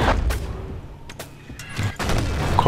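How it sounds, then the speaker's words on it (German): In-game explosions and gunfire during a Battlefield 1942 PC match, a grenade among them, with several loud broadband bursts and booms scattered over a steady battle din, alone without talk. "Da war eine Granate."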